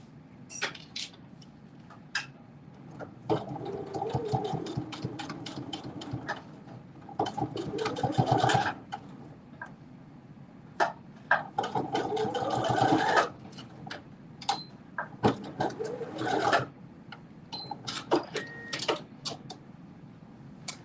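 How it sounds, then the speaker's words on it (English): A sewing machine stitches the right side of a pants waistband, front to back, running in steady bursts of rapid stitching separated by short pauses and faint handling clicks. "I'm sewing this on the right side, front to back, on the actual right side of the waistband"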